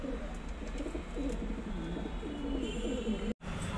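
Pigeons kept as a breeding pair coo in soft, repeated rolling phrases, fairly close but quiet over a low background hum, with a brief cut-out near the end.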